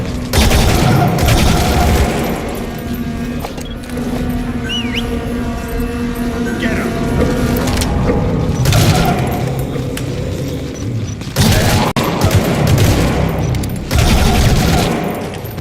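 Rapid bursts of gunfire from Metal Gear Solid V: The Phantom Pain rattle loud and close, with heavy booming shots and brief pauses between volleys over a dense, busy game soundscape.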